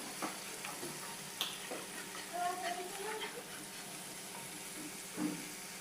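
Pabda fish jhal ingredients with garlic and a pinch of sugar sautéing in a pan, a soft steady sizzle with occasional stirring scrapes and light clicks, fairly quiet and close.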